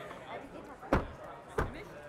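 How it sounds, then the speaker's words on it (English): Two solid thuds of a Tesla Model 3 car door shutting, close by and about half a second apart, over low background noise and faint talk. "Testing the door closing sound."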